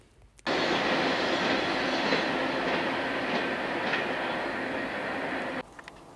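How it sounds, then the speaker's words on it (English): A train roars past at close range, a loud continuous rush of wheels and cars that starts abruptly and holds for about five seconds before cutting off, with no talking. "Train just went on right by."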